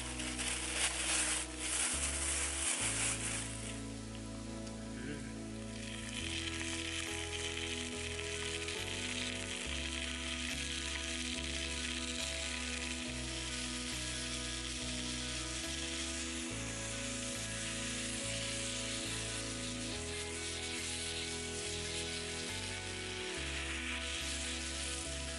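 Steady frying sizzle from sausages in a pan over a campfire in a forest, crackling and hissing continuously at close range with soft scraping and rustling underneath, no talking.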